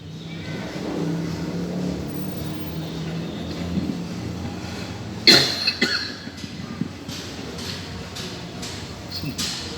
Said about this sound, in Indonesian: Saya ini belum sembuh batuknya.